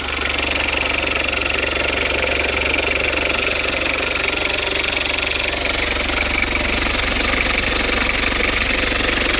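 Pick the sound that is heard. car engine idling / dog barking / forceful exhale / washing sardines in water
car engine idling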